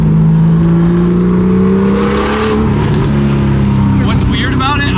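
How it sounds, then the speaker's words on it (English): An outlaw Porsche engine rumbles loud and close with a raw exhaust note, holding a steady drone that rises slightly in pitch, with a voice talking over it. "the exhaust note sounds like a turbo"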